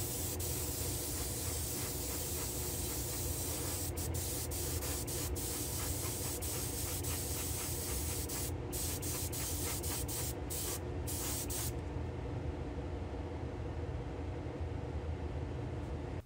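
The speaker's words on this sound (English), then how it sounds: "So allow me to head back to the spray booth, and we'll give that a quick spritz." Restored vintage Matchbox die-cast car being spray painted in a spray booth: a loud, close, continuous hiss from the spray can, with brief breaks in the spray and no talking.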